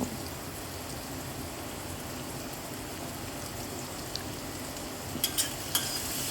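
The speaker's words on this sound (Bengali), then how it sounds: "এবার ভালো করে নেড়ে চেড়ে লাল লাল করে আলুগুলোকে ভেজে নেব।" Potato pieces fry in oil for a drumstick-leaf greens dish, giving an even, continuous hiss of sizzling with a few sharp spatula clicks toward the end; no one speaks.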